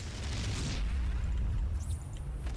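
Protoss photon cannons blowing up in a StarCraft 2 match, a dense, rumbling barrage of low booms that rolls on without a break, with faint higher crackles near the end.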